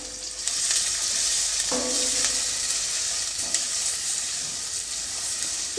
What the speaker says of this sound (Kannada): ಇವಾಗ ಈರುಳ್ಳಿನ ಸ್ವಲ್ಪ ಎಣ್ಣೆಗೆ ಚೆನ್ನಾಗಿ ಬಾಡಿಸ್ಕೊಳ್ತೀನಿ